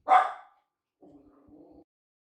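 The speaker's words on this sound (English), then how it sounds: "First big bark by Kev." A single sharp dog bark rings out close and loud, followed by a quieter, low whine or grumble about a second later, with silence around it.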